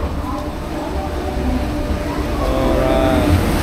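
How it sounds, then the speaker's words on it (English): A train arriving at a station in India makes a steady, loud rumble that slowly builds, with a low mechanical roar and some faint background noise from the platform. "Finally, our train is here."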